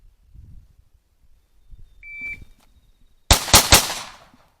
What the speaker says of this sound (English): Draw and fire 3 rounds.